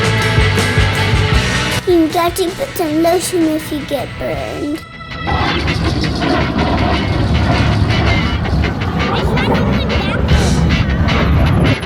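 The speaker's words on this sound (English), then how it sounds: "Loud noise from afterburners." A jet at the Abbotsford Airshow roars overhead on afterburners, a loud broadband rumble that swells and holds after a brief pause, with a voice and other people talking nearby at the start.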